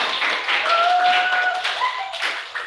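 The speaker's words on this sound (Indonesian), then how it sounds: "Ya, tepuk tangan untuk kita semua." Classroom applause after a lesson introduction, a dense, even patter of many hands clapping for a few seconds, with a thin whistling tone drifting through the middle.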